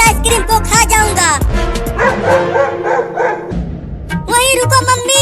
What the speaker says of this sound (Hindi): चिंटुआ लगता है अब ये कुत्ता हमें काटेगा। देख भौंक रहा है।